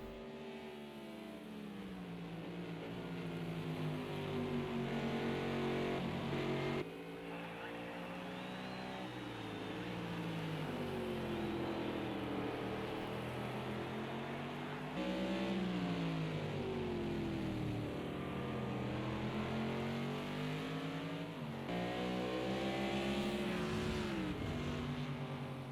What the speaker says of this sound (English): Monstrous engines thundering through the forest